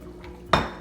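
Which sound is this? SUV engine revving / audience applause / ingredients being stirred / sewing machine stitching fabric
ingredients being stirred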